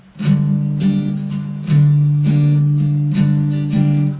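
An acoustic guitar strums an 8-beat pattern of chords, each stroke a bright attack over a sustained ringing tone, the accents repeating steadily and played close and clear with no talking.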